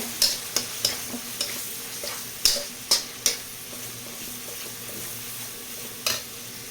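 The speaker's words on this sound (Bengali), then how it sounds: "দিয়ে দিব সামান্য হলুদের গুঁড়ো, দিয়ে আবার একটু ভেজে নেব" Turmeric powder fried in oil for aloo dum, with a low steady sizzle under repeated sharp scraping stirs of a spoon against the pan, close and fairly loud.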